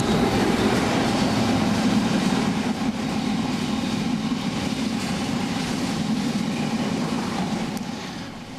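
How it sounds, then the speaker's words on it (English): A freight train rumbles through Barnetby station, a loud, steady roar of heavy wagons passing close by for several seconds before easing slightly at the end. "there's loads and loads of freight trains that come zooming through here"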